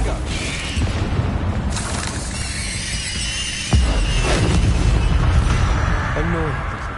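In the Hogwarts Legacy video game, a Confringo spell erupts into a sudden deep boom partway through, set among whooshing magical effects and a high squealing tone.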